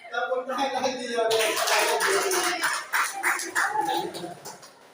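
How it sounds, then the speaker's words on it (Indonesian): A group claps hands together in a classroom-style exercise, bursts of fairly close applause rising and falling over several seconds while a voice speaks between them. "Tepuk tangan lagi ya."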